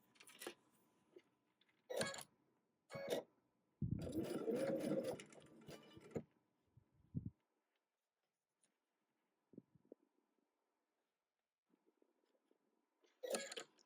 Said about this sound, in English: now we'll go ahead and we'll sew it to the bottom